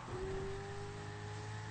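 A custom BMW drives in GTA 5 with a faint, steady engine hum at constant revs, quiet and brief with no talking.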